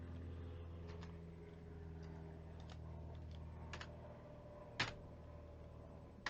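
A few soft, scattered keystrokes on a computer keyboard while typing a command, faint against a steady background hum.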